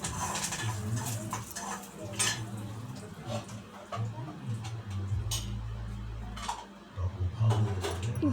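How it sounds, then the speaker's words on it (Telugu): Beetroot stir-fries in a home kitchen pan, with metal utensil clinks and scrapes against the pan in irregular bursts over a low background hum, close up, with a faint sizzle underneath. "ఇప్పుడైతే బీట్రూట్ ఫ్రై అనేది చేసేస్తున్నాను ఫ్రెండ్స్ ఈజీగా"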